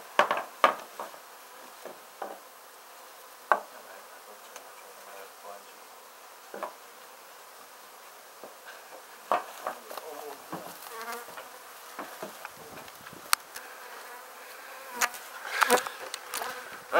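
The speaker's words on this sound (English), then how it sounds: "We removed the bees from under the shed and got them into the box." Bees buzzing steadily and faintly in the background during a bee removal from under a shed, with scattered knocks and clatters of wooden boxes being handled nearby.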